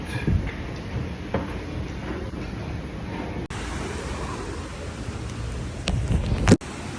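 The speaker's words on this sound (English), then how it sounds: "the rain is really windy" Wind-driven rain on a Tokyo street sounds as a steady broadband hiss and rush, with a few brief knocks and a short dropout midway.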